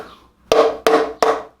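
Three sharp hammer taps on metal collars during a Honda K24 engine teardown, evenly spaced, each ringing briefly before the next, close and fairly loud.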